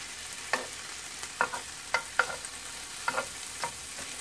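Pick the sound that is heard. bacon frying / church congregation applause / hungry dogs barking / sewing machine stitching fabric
bacon frying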